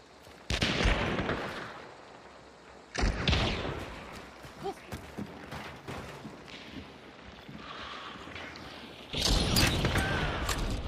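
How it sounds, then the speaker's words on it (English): Gunfire in a first-person video game, several loud, sharp bursts of shots at intervals with a quieter stretch of footsteps and thuds between them. "They're shooting at me now."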